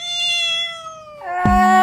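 A pet cat meows twice indoors, a long drawn-out cry followed by a sharper, louder second meow, close and clear with no talk.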